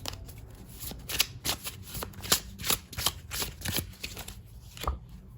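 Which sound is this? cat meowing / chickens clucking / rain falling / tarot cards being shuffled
tarot cards being shuffled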